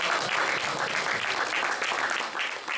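Warm audience applause greeting Form 4 student speaker Yadavan at a hotel event for an English program, continuous clapping, close and steady, easing slightly at the end.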